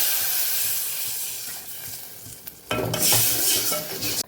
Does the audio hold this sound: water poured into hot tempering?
yes